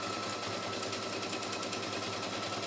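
A CNY E960 multifunction embroidery machine stitching steadily, a dense continuous mechanical whir with a rapid needle rhythm, loud and close, with no voices.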